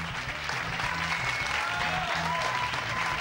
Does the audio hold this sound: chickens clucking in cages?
no